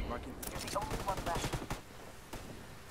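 Rapid gunfire crackles in a first-person shooter game, a quick burst of sharp shots in the first second and a half followed by a lone later report, with a faint voice underneath.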